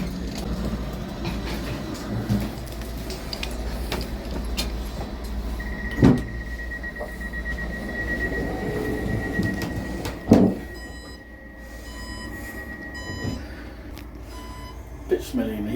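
Steady low rumble of a moving train carriage to Cambridge, England, with occasional knocks and a high whine, while people talk over it.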